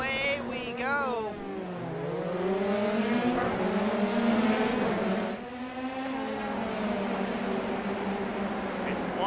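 A field of Formula 3 sim racing cars launches off the grid at Canadian Tire, engines howling and climbing through gears together in a loud rising chorus under a commentator's voice.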